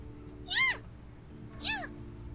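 A person imitates a cat with two short rising-and-falling meows about a second apart, fairly clear over a faint background hum, with no other talk.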